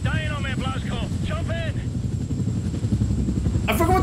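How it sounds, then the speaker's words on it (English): Helicopter in Wolfenstein The New Order, a continuous low rotor and engine rumble running under the whole stretch while people talk over it in short bursts. "Back on the helicopter."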